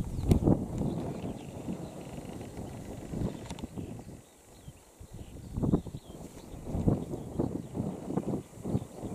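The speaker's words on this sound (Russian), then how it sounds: "Ветер немножко отдувает от них." Wind gusts buffet the microphone outdoors at a dam on a spring day, rumbling in uneven bursts that swell, drop to a near lull midway, then surge again.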